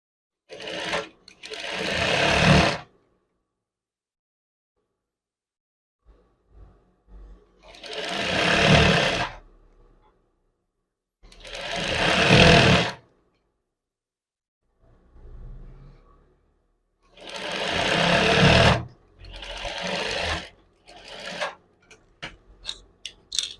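Sewing machine stitching the front seam of a men's jacket, several short bursts of fast motor-driven whirring with quiet pauses between them, close and clear, with brief soft voice fragments near the end.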